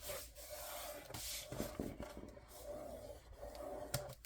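Paper being folded and creased for a handmade Christmas craft album, a soft continuous rubbing and scraping with a few sharper crinkles, close and fairly quiet, no voices.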